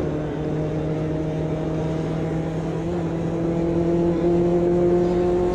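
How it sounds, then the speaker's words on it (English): A Mazda MX-5 in the Automobilista 2 racing game holds a steady, fairly loud engine and exhaust drone with a faint flutter on the overrun, with no voices. "exhaust pipe fluttering on the down on the overrun"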